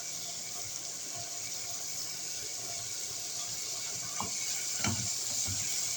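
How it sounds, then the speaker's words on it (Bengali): Onions sizzle as they fry in a pan, cooked to a light brown, with a steady hiss and a couple of brief clinks or stirs near the end, no talk. "প্রথমে আমি পেঁয়াজ হালকা বাদামি কালার দিয়ে ভেজে নিচ্ছি"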